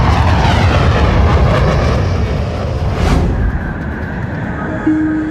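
An airliner diving and recovering: a loud, sustained roar of engines and rushing air, dense and continuous, with a brief rising surge midway and the roar easing slightly toward the end.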